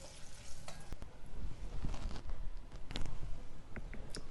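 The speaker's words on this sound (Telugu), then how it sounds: "ఈ వేడికి మనకు కరివేపాకు అనేది వేగిపోతుంది చక్కగా" Curry leaves crackle in hot oil for a tomato and ripe red chilli pachadi tempering, the stove just switched off, giving a close, busy sizzle with a few sharp pops and scraping stirs.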